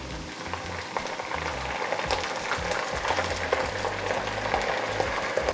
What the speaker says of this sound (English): This is probably going to sizzle and splash